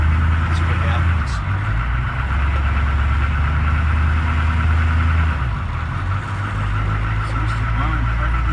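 A CUCV M1008 military truck's engine runs at a steady idle, a loud low rumbling drone that holds throughout, with someone talking over it.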